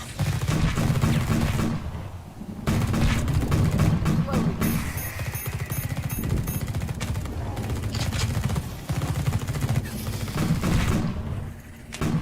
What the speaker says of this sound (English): Left click on your grenade launcher component to fill it with energy, then select the alt and blow the barricade up.